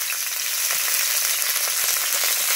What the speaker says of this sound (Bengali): দিয়ে দেবো বিনসগুলো, ক্যাপসিকাম কুচিগুলো, কারণ আমার ওই দুটো হালকা ভাজা হয়ে গেছে।